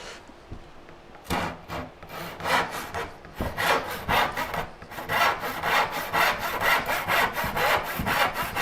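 A crosscut handsaw cuts through wood for a Shaker Enfield cabinet, with steady rhythmic strokes that start after a short pause and continue close and fairly loud to the end.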